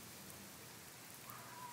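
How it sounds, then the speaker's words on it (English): Heavy storm rain pours outdoors as a constant, even hiss, faint and steady through the short stretch, with no voices. "it's raining pretty hard out here"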